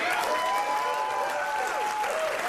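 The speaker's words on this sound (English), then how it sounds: "We love to hoot and haw in the crowd" A studio audience at a comedy show cheers and hoots over steady applause, with rising and falling whoops carrying above the dense, continuous crowd noise.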